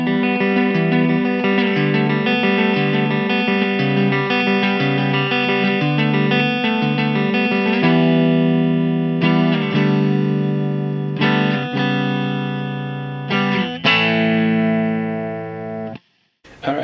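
A Donner DTC-100 Telecaster-style electric guitar is played through its neck pickup with effects. Sustained chords and notes ring out strongly with a smooth, warm tone, then the playing ends in a few short strums and a brief cutoff.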